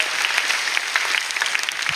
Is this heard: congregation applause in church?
yes